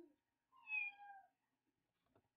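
A pet cat meows in a Roblox game, a single drawn-out, rising-then-falling meow of about a second, fairly clear and alone, followed by a faint brief knock.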